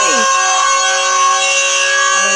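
A siren from a TV in a Roblox game wails steadily at a sustained, loud tone with strong harmonic layers, briefly dipping at the start before holding level.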